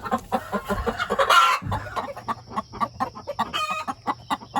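A broody hen clucks in a steady run of short, close calls while out in a backyard run meeting young spring chickens, with brief squawks and a faint rooster-like crow mixed in.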